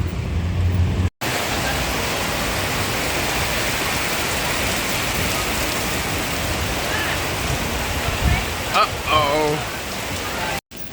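Steady, dense rain pours down continuously, a loud hissing wash of drops on surfaces that fills the whole stretch, with brief cuts near the start and end and a few faint tones mid-way.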